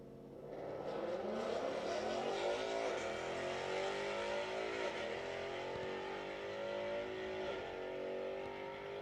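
A Tesla Plaid electric car runs down a quarter-mile drag strip at a street-legal race night, a loud sustained roar that builds and holds for the whole run, with layered rising engine tones from the track.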